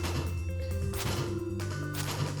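Green Serpent flying monster in the Skull Caves of Stardew Valley, a game sound with a dense crashing, smashing burst that fills the whole clip over a steady low in-game music bed, with no talk.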